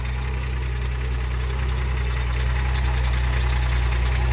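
A 1963 Ford F100 truck's original straight-six engine idles steadily nearby, a deep continuous rumble with a slight knocking pulse and rising hum, no voices.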